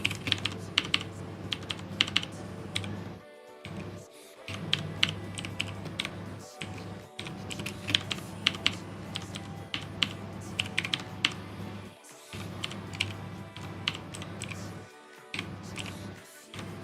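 Typing on a computer keyboard makes a continuous, moderately close clatter of key clicks in irregular bursts, with a few short pauses throughout.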